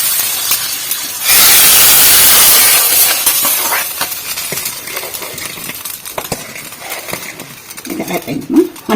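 Mustard seeds, fenugreek and cumin sizzle and crackle in hot oil as a tempering is added, starting with a loud hissing burst and settling into a steady close crackle with scattered pops.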